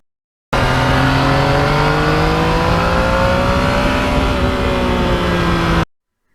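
A 2020 Yamaha MT-09 motorcycle engine and exhaust, a loud close drone that holds steady and then sags slightly in pitch before cutting off abruptly near the end.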